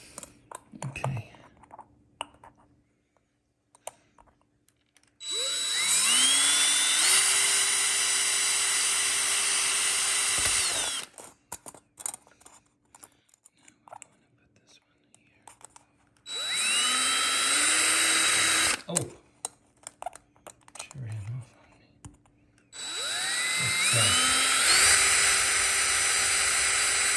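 A power drill whines in three long bursts, spinning up and holding a high, steady pitch as it bores through the rim of a metal can for a homemade penny stove, with quiet handling noises and pauses between runs.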